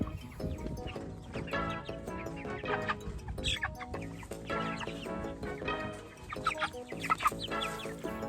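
Egg-laying hens cluck steadily inside a movable chicken tractor outdoors, several birds overlapping in a busy, close, continuous chatter with occasional louder squawks.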